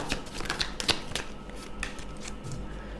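Tarot cards are shuffled up close in a continuous run of soft, rapid riffling and flicking, with a few crisper snaps early on and no voices.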